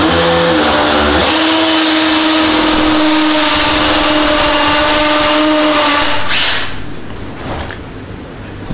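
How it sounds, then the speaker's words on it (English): A power drill with a 7mm bit whines loudly and steadily for several seconds while drilling a hole in a bathroom wall, then winds down and stops near the end. "drilling the hole with my 7mm drill bit"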